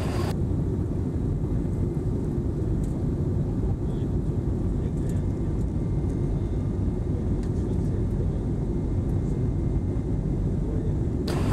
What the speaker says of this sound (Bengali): এখন আমাদের বিমানটা অনেক আকাশে অনেক উপরে উঠে গিয়েছে